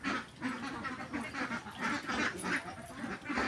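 A flock of ducks, about 175 birds on a duck farm, quacks continuously in a dense, loud, overlapping chorus with no one speaking.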